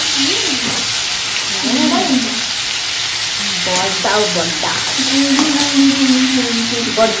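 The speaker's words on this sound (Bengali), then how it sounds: "তরকারিটা ফুটে গেছে, চিংড়ি মাছগুলো ঢেলে দিল" Prawns dropped into a boiling curry in a home kitchen: loud, steady frying sizzle and hiss throughout, with a voice speaking over it near the start and again later.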